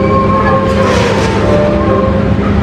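Nearby and loud, the Tegal Bahari economy train behind a CC 201 diesel locomotive rolls into a station with a steady heavy rumble and droning tonal hum, and nobody speaks.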